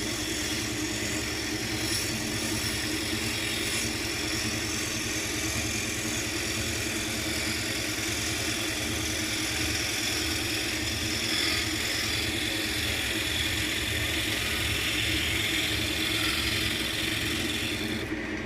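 A wood lathe spins an oak ashtray blank while a bowl gouge takes a light planing pass, giving a steady dense whir with a rough, scraping hiss of cutting throughout and no talking.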